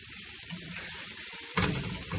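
Mature end-of-season kale sautéing in a pan for clam pasta, a steady close sizzle and crackle that swells louder partway through as it is stirred, with no voices.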